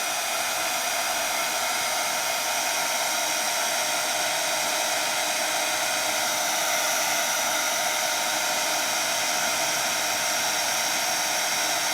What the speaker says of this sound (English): I'm going to take it from a liquid to a solid using my heat tool